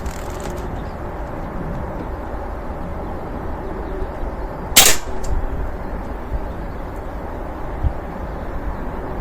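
A single sharp crack from a Beeman air rifle with a freshly cleaned barrel fires at a target outdoors, one brief loud snap midway over steady wind-like background noise, with a faint knock after.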